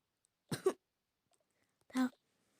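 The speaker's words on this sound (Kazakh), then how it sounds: "сен жөтеліп қалғансың ба не?" Two short, dry coughs from a character in the Toca Boca game, about a second and a half apart, the second one deeper and more throaty, with quiet in between.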